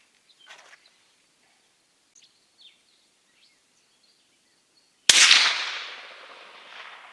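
A single suppressed gunshot from a .416 Ruger elephant rifle cracks sharply and loudly, then trails off in a lingering outdoor echo, with faint birdsong beforehand.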